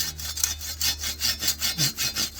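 A hand saw rasps through a sweet bamboo branch in quick, regular back-and-forth strokes, about eight strokes, close and steady.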